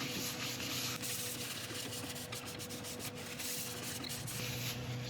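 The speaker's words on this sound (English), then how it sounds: "cleaning up any excess grit with isopropyl" Soft continuous rubbing and wiping on a resin and walnut woodturning, cleaning off leftover sanding grit with isopropyl alcohol, a steady close scrubbing texture with no talk.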